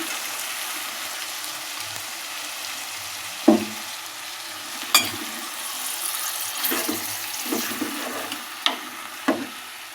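Cleaned chicken pieces fry in a pan with a low steady sizzle, cut by a few scattered knocks and scrapes of a spoon stirring, close and moderately loud without talk.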